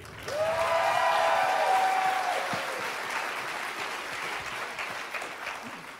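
Audience at a Christmas concert by an a cappella group breaks into applause, a loud wave of clapping with a sustained whoop near the start that eases into steady, gradually thinning clapping.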